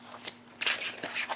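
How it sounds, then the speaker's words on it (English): A Sawyer's Path tarot deck being shuffled, with brief papery riffling bursts close by, heard alone and in short separate bursts. "today I'm using the Sawyer's Path Tarot, and I've already allowed for reversals, so I just have to shuffle"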